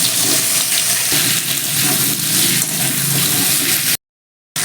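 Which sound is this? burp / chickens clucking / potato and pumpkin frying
potato and pumpkin frying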